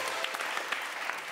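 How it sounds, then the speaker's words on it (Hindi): Brief burst of studio-audience applause on a comedy talk show, steady dense clapping through the whole short moment with a few sharper claps standing out. "लेजेंडरी सर शान शाहिद साहब हैं इनके लिए बहुत सी तालियां"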